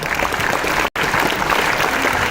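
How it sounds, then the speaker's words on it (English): A conference crowd keeps applauding, a steady loud wash of clapping with one very short gap. "I think the applause should keep coming,"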